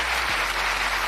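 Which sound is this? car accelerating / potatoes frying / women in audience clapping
women in audience clapping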